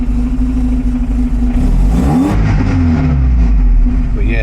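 A 1975 Volvo 245 wagon with a 16-valve turbo engine runs loud and close, rumbling steadily before the revs swell and fall with some clatter.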